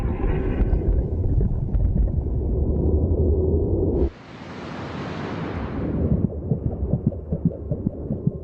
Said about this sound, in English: She can also hear the competing thud of heartbeats